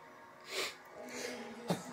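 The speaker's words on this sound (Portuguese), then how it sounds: "Eu espirrei aqui" A single short sneeze burst bursts out near the microphone indoors, followed by a brief snort-like exhale, quiet and close.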